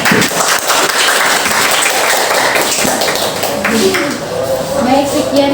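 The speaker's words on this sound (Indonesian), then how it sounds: "Kasih tepuk tangan dulu." A classroom applauds a student group about to give its presentation. Loud, close clapping runs throughout, and voices talk over the noise.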